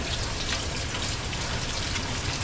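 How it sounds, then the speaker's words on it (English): Water running steadily while vegetables are washed before peeling, a continuous close splashing gush with no breaks. "wash these real good, and then I'm still gonna peel them, but I just like to wash my vegetables"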